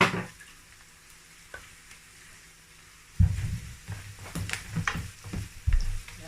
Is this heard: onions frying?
yes